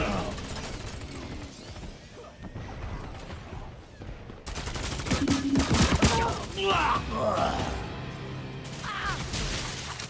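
Gunfire in the Lawbreakers video game: dense bursts of shots and impacts with game effects, loudest in the middle and continuing throughout.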